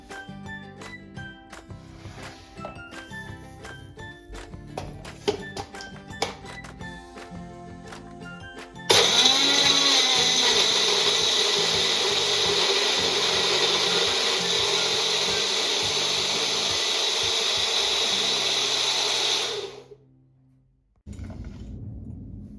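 A blender grinds muskmelon with sugar into thick juice, a loud steady whirring roar that starts abruptly after some clattering preparation sounds, runs continuously for about ten seconds, then cuts off sharply.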